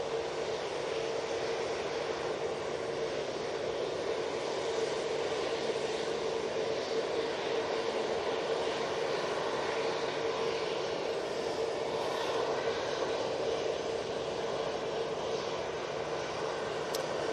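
A Finnair jet airliner at Manchester Airport roars in a steady broadband rumble with an engine whine, continuous and fairly distant, with no talk.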